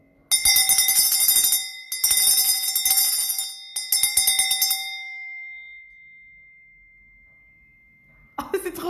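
A bell dings, its clear ringing tone decaying slowly over several seconds after a few bursts of bright, noisy clatter, then a short rustle at the end.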